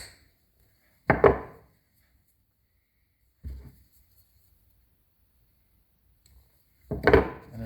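Cutters snipping through the ground wire of an extension cord, heard as three separate sharp crunching cuts spaced apart in otherwise quiet surroundings.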